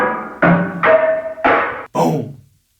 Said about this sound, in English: And then I have a filter opening